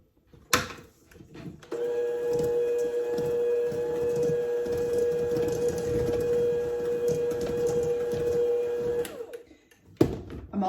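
A stand or hand mixer running on low speed through cake cookie batter, a steady motor whir with a constant tone holding for about seven seconds between brief clatters at start and end, with no talking.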